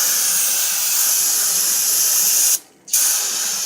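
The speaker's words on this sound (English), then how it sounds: "we're gonna spray all of the brake dust" Aerosol brake cleaner is sprayed onto the brake dust under the wheel well of a 2008 Honda Pilot during rear brake work. It gives a loud, steady, close hiss that cuts off briefly near the end, then sprays again.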